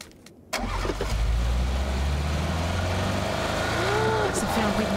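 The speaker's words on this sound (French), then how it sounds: "Oh là là, mais la Dacia, ça fait un boucan" A Dacia car in a video game cranks and its engine catches after a short silence, then settles into a loud, steady low idle that runs on with a faint rising whine near the end.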